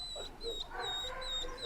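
Shelter dogs at visiting time whimpering and yipping, with high thin whines repeating over a muffled kennel background and an occasional soft bark, moderately faint.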